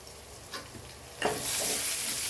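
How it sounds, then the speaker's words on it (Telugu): Chicken frying in a pan with turmeric, mint and coriander gives a low crackle that swells suddenly into a loud, steady sizzle, with the scrape of stirring and no talk. "ఇవి బాగా ఫ్రై చేసుకోవాలి"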